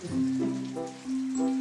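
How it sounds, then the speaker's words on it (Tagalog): Heavy rain pours steadily in Bicol near the Cagsawa Ruins, a dense hiss of drops with a low droning hum running beneath it throughout. "Napakalakas ng ulan mga kasama."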